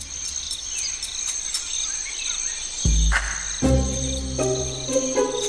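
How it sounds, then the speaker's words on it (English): A cricket, prey near a spider's den, chirps in short, evenly spaced high ticks. Low thuds and a few tonal sounds join partway through, and no one speaks. "A cricket."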